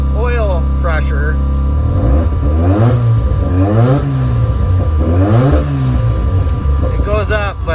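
A Mazda RX-7 FD time attack rotary engine with an oil pressure problem, revved loudly several times from a rough idle. The pitch rises and falls in repeated swells, close and dominant.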